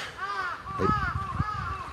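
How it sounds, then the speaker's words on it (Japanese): Several harsh crow caws in a row at a Shinto shrine in Shisō, Hyōgo, Japan, fairly close and clear, with a brief murmur of a voice under them. "カラスが鳴いてある"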